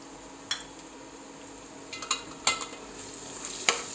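Ginger, garlic and chili paste sautés with browned onions in a pan; a soft, low sizzle runs under a handful of sharp spoon scrapes and clinks against the pan, close and without talk.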